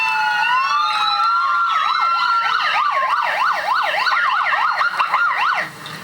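A police motorcycle siren wails and then switches to a rapid repeating yelp, loud and close, with overlapping siren tones behind it.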